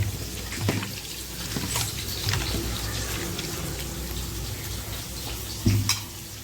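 Seafood being rinsed in water in a kitchen, washed with turmeric several times over: a steady, close wash of running, splashing water with a few louder sloshes along the way.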